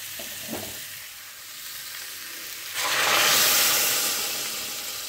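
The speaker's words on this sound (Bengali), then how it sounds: "রান্নাটা গরম জলে করব তাই গরম জল দিয়ে দিচ্ছি।" Hot water poured into a pan of cauliflower and shrimp curry bursts into a loud, broad sizzling hiss that swells and then slowly eases, with a faint scrape just before it, no voices.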